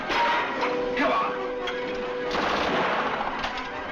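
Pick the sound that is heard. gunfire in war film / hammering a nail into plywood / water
gunfire in war film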